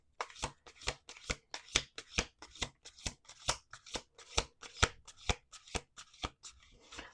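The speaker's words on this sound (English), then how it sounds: "We're going to do two more shuffles." Tarot cards riffle and snap in a quick, steady run of crisp shuffling bursts, close and fairly loud, with no talking.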